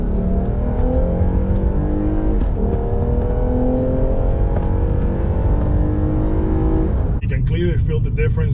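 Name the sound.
Lexus IS350 accelerating with HPS intake whine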